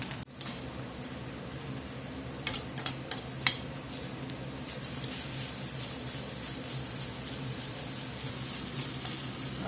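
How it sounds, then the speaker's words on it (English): Vegetables in a pan with Guinness beer, simmering and sizzling in a steady hiss, with a few sharp clicks of a utensil near the start. "we're going to let this sit here and simmer till those vegetables are done softening up and that beer is evaporated."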